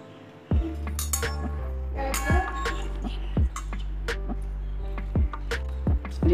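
Ingredients for a Russian salad, including carrots, dates and dry fruit, being mixed in a bowl, heard as a series of sharp clinks and taps of a utensil against the dish over a low steady hum.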